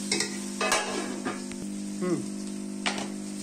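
Peas stirred in a hot pan with turmeric and cumin, giving a steady low sizzle with a spoon scraping and clacking against the pan in short, irregular strokes, close and fairly quiet.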